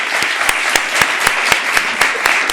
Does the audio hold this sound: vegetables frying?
no